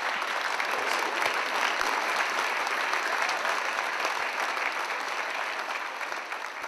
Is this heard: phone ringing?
no